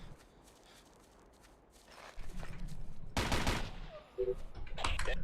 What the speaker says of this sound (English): Did someone across the street shoot me